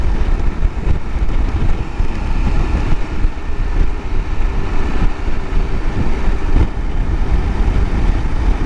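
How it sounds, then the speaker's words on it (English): Strong wind buffets the microphone while riding a KTM 890 Adventure motorcycle, a dense, continuous low roar with a steady engine and road drone underneath and no voices. "It's really windy today."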